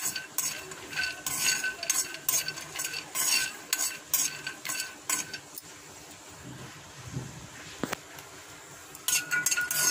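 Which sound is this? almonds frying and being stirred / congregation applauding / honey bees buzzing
almonds frying and being stirred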